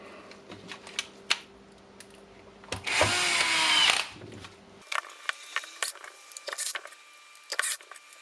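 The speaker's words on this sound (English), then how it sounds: "So now I will put the screws here." Screws are being driven into a DeWalt oscillating multitool during repair, with a loud power-driver whir of about one second in the middle, surrounded by scattered small clicks and taps of parts being handled.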